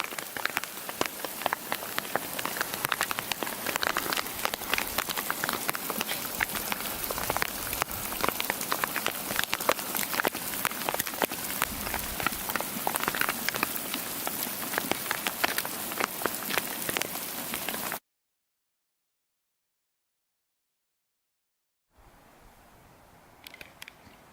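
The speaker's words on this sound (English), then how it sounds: "it decided to start hailing." Hail pelts a backpacking camp in Montana's Absaroka-Beartooth Wilderness in July, a dense, even patter of sharp taps for about eighteen seconds before cutting out, followed by faint quiet ambience.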